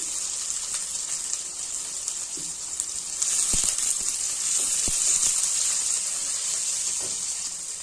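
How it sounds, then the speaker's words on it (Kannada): Chopped onion added to hot oil with popped mustard seeds while cooking a carrot stir-fry, giving a continuous bright sizzle that swells midway, with scattered soft clicks of a spoon against the pan. "ಅದಕ್ಕೆ ಇವಾಗ ಕಟ್ ಮಾಡಿರೋ ಈರುಳ್ಳಿ ಹಾಕ್ಕೊತಾ ಇದ್ದೀನಿ"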